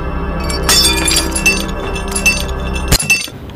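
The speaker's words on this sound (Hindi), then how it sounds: "बीबी जी ये गिलास मैंने सिर्फ इसलिए तोड़ा है तुम्हारा अंधविश्वास तोड़ने के लिए।" A glass tumbler is smashed: a sharp crash of breaking glass followed by tinkling shards and clinks, with a second loud impact near the end, up close and loud over a steady low background hum.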